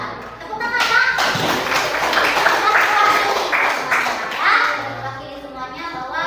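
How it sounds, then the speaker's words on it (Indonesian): A class of children claps together in a school classroom, a loud, busy burst of hand claps that holds for several seconds and then tapers, with kids' voices chattering and calling out over it. "Tepuk tangan ya"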